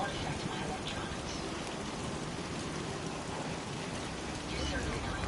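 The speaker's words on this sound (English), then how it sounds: "it's raining again" Steady rain falling, a dense continuous hiss of drops pattering on surfaces, even and close throughout with no pauses.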